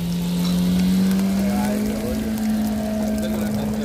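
Paneer frying for a paneer biryani hisses steadily in a hot pan over a gas flame, with a constant low hum running beneath the sizzle throughout.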